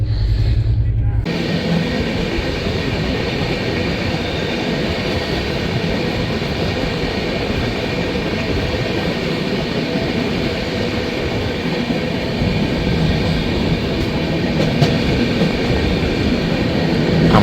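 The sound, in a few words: Sealdah New Delhi Rajdhani Express train running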